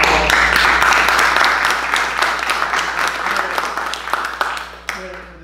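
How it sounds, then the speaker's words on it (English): Loud applause from a board meeting audience for the staff, steady clapping with some voices mixed in, thinning out near the end. "As a chair, I'd like to give all the Kika staff a round of applause."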